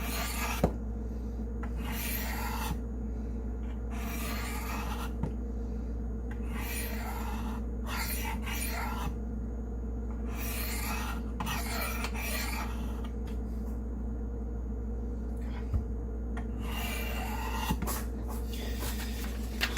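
Repeated rasping strokes of an S35VN steel knife blade being drawn across a sharpener to set its bevel, a steady back-and-forth scraping rhythm over a constant low background hum.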